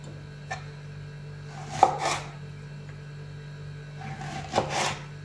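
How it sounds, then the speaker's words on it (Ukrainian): A knife cutting eggplants into sticks on a board, a few sharp chops in two short clusters, close and fairly quiet against a steady background hum. "І буду нарізати їх брусочками."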